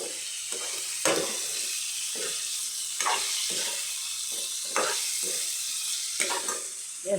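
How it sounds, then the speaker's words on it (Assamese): Broiler chicken fries in a pan with a steady sizzle, while a utensil stirs it in regular scraping strokes about once a second, heard close up. "এতিয়া অকণমান ভাজি ল'ম"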